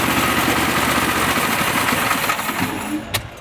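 A Quincy QT7.5 air compressor runs steadily with a dense, even mechanical drone that fades slightly toward the end, ending on a brief knock.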